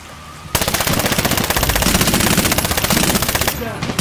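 Sustained automatic gunfire from a machine gun in the Medal of Honor video game, rapid evenly spaced shots rattling loudly for about three seconds after a brief quiet lead-in, then stopping.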